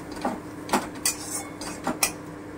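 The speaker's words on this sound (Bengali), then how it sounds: "একটু নেড়ে নিচ্ছি হালকা করে।" A spoon stirs yogurt into frying spices in a pan, producing several light scraping clinks at an irregular rhythm, close and fairly quiet.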